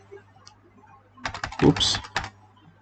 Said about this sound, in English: Then we type ATTDEF